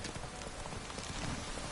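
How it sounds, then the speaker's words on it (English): Horse hooves clip-clopping in The Witcher 3 video game, a quick steady patter of hoofbeats on the ground, brief and fairly faint with no talk. "El caballo."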